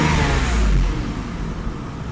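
The V12 engine of a 1993 Mercedes 600SL revs, a loud, close, steady mechanical roar that swells briefly and then settles into a smooth, even idle hum.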